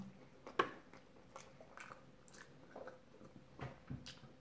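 Chewing of chicken tacos, heard as soft, close, irregular biting and mushy mouth sounds with one sharper crunch early on, and no talking.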